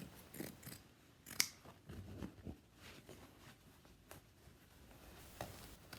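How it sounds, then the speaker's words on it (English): Scissors cut slipcover fabric at an angle, producing faint, close snipping and crisp rustling strokes at an irregular pace, with soft handling noise between cuts and no talking. "make those cuts on an angle just so that we can wrap it around and staple it together first and then sew it"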